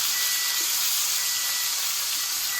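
Steak searing in a hot pan for a homemade steak sandwich gives a steady, loud sizzle with broad hiss, continuous and unbroken, with no talk.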